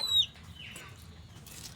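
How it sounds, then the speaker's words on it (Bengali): A baby chicken cries with a single sharp, high peep at the start, followed by faint rustling and soft background noise. "এরকম মুরগির বাচ্চা দিয়ে সারাদিন কাঁদতেছে, কিল কিল কিল কিল কিল।"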